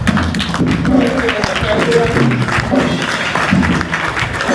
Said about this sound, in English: give a standing ovation to our president